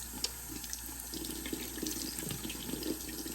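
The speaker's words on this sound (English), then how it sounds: "I just take the doll and I run her back under the water" Tap water runs steadily into a sink as a doll is rinsed under the stream to wash suds from her body and hair, with faint splashing as she is moved through the flow.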